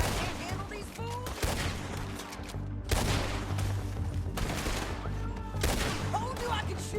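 Rapid gunfire in Red Dead Redemption 2: bursts of shots crackle one after another over a steady game soundtrack, loud and continuous with brief pauses between volleys.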